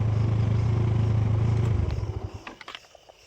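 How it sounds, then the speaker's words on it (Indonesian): A motorcycle engine idles loudly nearby, then cuts off, leaving sputtering, ticking and faint clatter as it dies away. "Motor saya matikan dulu, bising."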